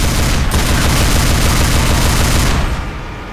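Sustained, loud automatic gunfire from the video game Deathwing, a dense continuous barrage that rolls on for nearly three seconds before trailing off into a fading rumble.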